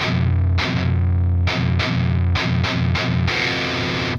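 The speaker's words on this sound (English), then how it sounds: "They'll do the tritone chug." Heavy distorted electric guitar playing a tritone chug in short palm-muted bursts, alternating between two low chords in a choppy rhythm, loud and up close.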